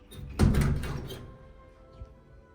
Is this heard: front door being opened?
yes